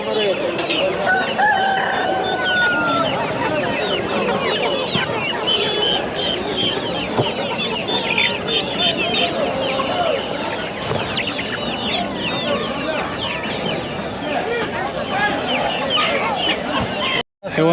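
Native country chickens and roosters at a busy weekly livestock market in Hindiganala, with crowing and steady clucking close by over a dense crowd murmur, and people talking throughout.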